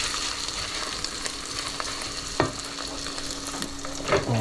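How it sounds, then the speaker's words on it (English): Rice fries in a pan for an Asian-style risotto. A steady close sizzle runs throughout, broken by a few sharp scrapes and knocks of a utensil stirring the grains. "I'll just fry off the rice first before I add water to it."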